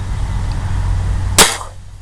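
A single sharp gunshot fired at a squirrel during a hunt cracks out loud and close, over a steady low outdoor rumble, then fades quickly.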